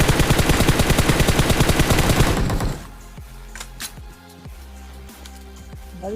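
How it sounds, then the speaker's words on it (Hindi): Rapid machine-gun fire in a video game rattles loudly in a continuous burst for over two seconds, then stops, leaving quieter game sounds and a few faint scattered shots. "मैं बहुत ज़्यादा फायर देता हूँ"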